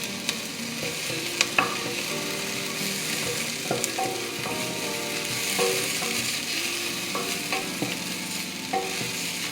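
Ginger fries in a pan for a Thai noodle soup, a steady close sizzle broken by repeated scraping and tapping of a utensil stirring against the pan.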